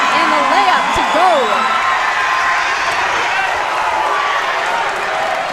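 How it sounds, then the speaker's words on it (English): Crowd noise at a men's college basketball game in a dome, steady cheering and screaming from the stands with scattered whoops, close and loud, with an announcer talking over it. "can you hear the crowd in our headsets right now?"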